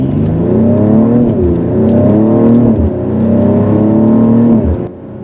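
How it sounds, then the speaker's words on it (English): A Mercedes-AMG with a sport exhaust accelerates hard, its loud, close engine note climbing through the revs, briefly dipping at two shifts, then rising again before cutting off near the end. "That sport exhaust, that sport acceleration is honestly next level."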